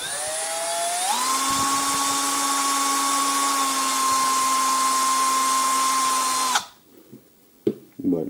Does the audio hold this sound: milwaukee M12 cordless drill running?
yes